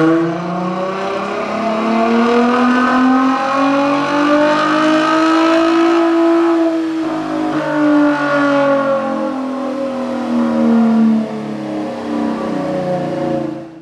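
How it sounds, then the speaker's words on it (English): A V6 Dodge Charger with over 200,000 miles revs hard on a dyno, its engine note climbing and sweeping in pitch through long sustained pulls, loud and close with no talk. "I'm going to show this car being dyno tested and tuned."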